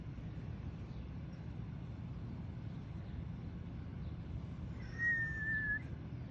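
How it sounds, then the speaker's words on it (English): A single short whistled tone, faint and somewhat distant, rises briefly over a steady low rumble of outdoor background noise near a fence-post job. "Just give a little whistle."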